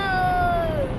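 A voice imitates a cat with a single drawn-out meow, a clear falling tone lasting about a second, close to the microphone.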